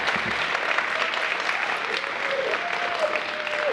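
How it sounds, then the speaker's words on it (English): An audience at an elementary school evening of young writers gives a round of applause, a steady wash of many hands clapping at an even level for a few seconds, with a faint tone and murmurs underneath. "Let's all give another round of applause for these amazing young writers."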